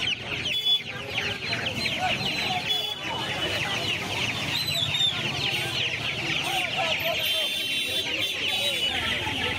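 Young Australorp chickens, about a month and a half old, cluck and chatter continuously at a busy poultry market, a close, steady flock din with faint crowd murmur behind.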